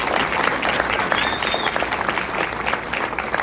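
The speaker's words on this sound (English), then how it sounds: "give her a round of applause" Audience applause at a multiple sclerosis fundraiser event, dense continuous clapping from a crowd, loud and even for the whole stretch.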